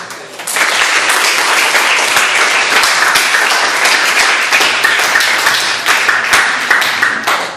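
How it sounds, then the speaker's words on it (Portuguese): A ninth-grade class applauds after a presentation in a school mock trial of Getúlio Vargas, with loud, steady, dense clapping from many hands sustained throughout without a break. "palmas"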